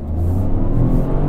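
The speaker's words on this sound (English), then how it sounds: "I love that 3-cylinder noise" A 2023 Toyota GR Corolla Core three-cylinder engine revs steadily, a low throaty drone that stays loud and close throughout with no voices over it.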